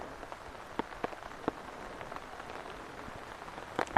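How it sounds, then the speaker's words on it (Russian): Rain falls during an outdoor walk past a palace grounds, a soft, faint patter with scattered sharper drip taps landing close by. "Прогулка по дождю у нас."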